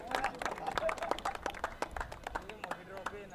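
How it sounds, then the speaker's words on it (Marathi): An audience claps steadily and densely at a cricket tournament prize distribution. The crowd applause continues throughout, with a voice faintly underneath. "खूप खूप अभिनंदन, जोरदार टाळ्या होऊन जाऊ द्या।"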